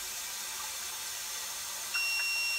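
Water running steadily into a Kohler K9 steam generator during a repair, a faint, even hiss of flow throughout, with a thin electronic tone appearing near the end as the float switch signals.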